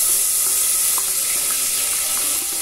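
Onion, chopped very fine, fries in a pan for a Brazilian cuscuz paulista, giving a loud continuous sizzle with a few soft scrapes as it is stirred, with no talk.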